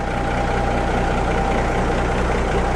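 A 1988 Freightliner FLC truck idles: a steady, loud, low diesel rumble with an even pulsing throb and no voices.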